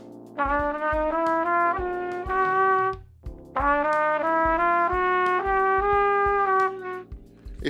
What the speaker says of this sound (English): unintentionally play a half-valved sound,